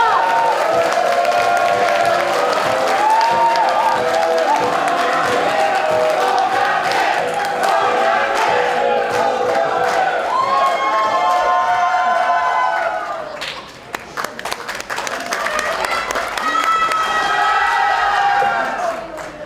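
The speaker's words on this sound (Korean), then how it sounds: "뜨거운 박수로 맞아주시기 바랍니다" A crowd at a Democratic Party rally in Jeju cheering and applauding loudly, with whoops, shouted chants and amplified voices over sustained clapping, briefly dipping before swelling again.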